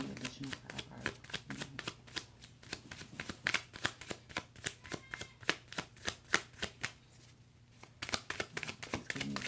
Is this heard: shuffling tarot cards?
yes